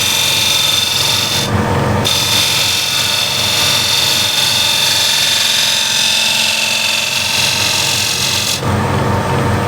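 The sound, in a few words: spindle gouge shear scraping a wooden bead bowl on a lathe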